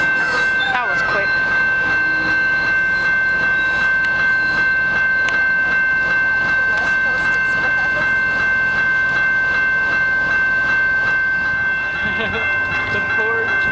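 A Canadian Pacific freight train rolls past at Pitt Meadows, a steady loud rumble and rattle of wagons with a sustained horn-like tone throughout, and voices talking nearby.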